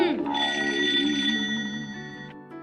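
Telephone rings in a Hindi-dubbed Doraemon cartoon: a bright, electronic ringtone with a warbling melody sounds loudly for about two seconds, then cuts off abruptly.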